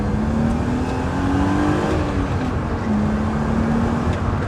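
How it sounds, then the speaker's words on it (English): A supercharged BMW E39 530i with a 300bhp ESS supercharger kit drives on a track, its engine and exhaust droning steadily and loudly from inside the car, with pitch rising and falling slightly as it pulls through the gears. "You can hear the exhaust because you've lost a lot of the interior, so to speak."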